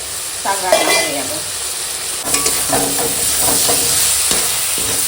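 Salted spinach cooks down in a pan in the water it releases, giving a steady sizzling hiss broken by scraping stirs and clatters, close and fairly loud.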